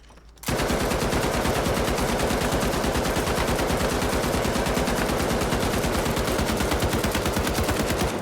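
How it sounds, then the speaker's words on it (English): Sustained automatic fire from an M60 machine gun in the video game The Finals, a rapid, evenly spaced stream of loud shots that starts abruptly after a brief quiet moment and continues without pause to the end. "And now I'm probably going to go for the M60, which is the other machine gun for the heavy class."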